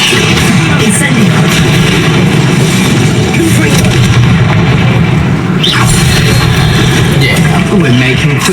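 Incendio, a fire spell, is cast in the video game Hogwarts Legacy, a loud, dense roaring burst amid constant combat bangs and booms, with a sharper flare partway through.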